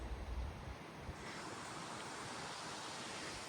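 Steady wind roars and buffets the microphone on an outing with motorcycles, a continuous broadband rush with low gusty rumble, loud and close throughout.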